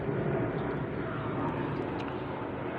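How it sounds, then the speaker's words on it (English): A fixed-wing airplane drones overhead in a cloudy sky, a steady, distant broadband roar that fills the whole stretch without breaks. "And there's a plane coming too. I think you can hear it lurking in the sky."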